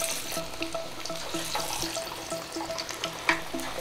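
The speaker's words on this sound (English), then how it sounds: "Let it fry for 4 to 5 minutes on medium to high flame." Lentil and spinach patties frying in hot oil over a medium-high flame give a steady close bubbling sizzle with soft crackles and spatters throughout, no voices.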